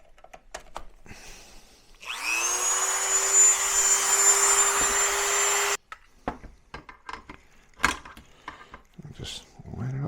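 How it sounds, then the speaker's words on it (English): Dremel rotary tool cutting into a Coleman Road Trip grill, a loud sustained high-pitched whine for about four seconds with steady grinding, ending abruptly, with clanks and handling noises around it. "Alright, a little bit of Dremel."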